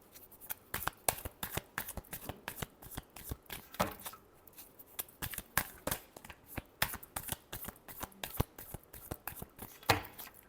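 Tarot cards being shuffled by hand, a rapid series of crisp riffling snaps and flicks in irregular bursts, close and fairly quiet.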